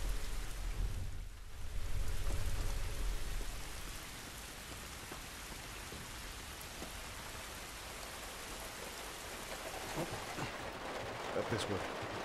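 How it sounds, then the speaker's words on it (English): Steady rain falls in The Last of Us video game, a constant close hiss of drops with a heavier low rumble early on and faint scattered patters later. "This rain ain't gonna do us any good."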